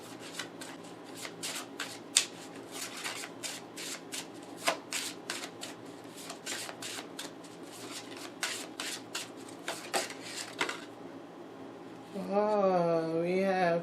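Oracle cards being shuffled by hand for a reading, producing repeated crisp riffling bursts in a steady rhythm, close and clear. A voice speaks at the very end.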